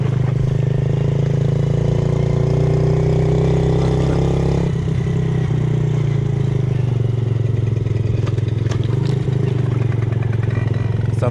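Small mini motorbike engine idling and running steadily, a loud continuous buzzing drone up close with a slight dip and shift in pitch midway, accompanied by some light clattering.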